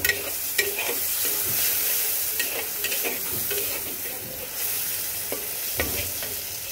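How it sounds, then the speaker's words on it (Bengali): Chopped onion frying in hot oil in a pan, a close, loud, continuous sizzle with occasional stirring scrapes and crackles throughout. "পেঁয়াজটাকে আমি খুব সুন্দর করে একটু ভেজে নেব"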